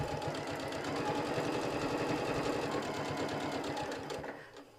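A sewing machine stitches fabric in one steady run, its needle thumping in a fast, even rhythm close up before winding down and stopping.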